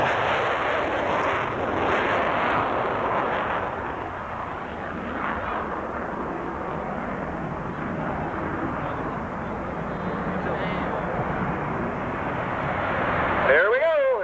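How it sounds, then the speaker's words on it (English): A jet aircraft at a 1995 air show in Knoxville, Tennessee, takes off on afterburner: a huge, sustained roaring blast that fills the whole stretch, swelling slightly toward the end, with a voice briefly audible under the noise. "And watch that afterburner take off."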